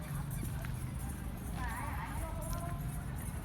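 A mare's hooves clip-clop in a steady rhythm. A voice talks over them and urges the horse along, and the background is noisy.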